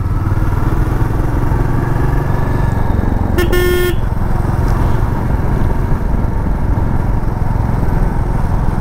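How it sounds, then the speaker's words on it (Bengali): A motorcycle rides through road traffic near Tufanganj, its engine droning loud and steady, with one short horn blast from a passing toto cutting through midway. "এই টোটোগুলো রাস্তার মধ্যে এমন জ্যাম করে রাখে, ভালো করে বাইকটা চালানো যায় না।"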